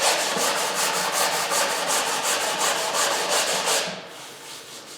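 Coarse 80 grit sandpaper rubs steadily along the wooden neck of a 335-style guitar kit, a close, continuous rasping with rhythmic back-and-forth strokes that stops near the end.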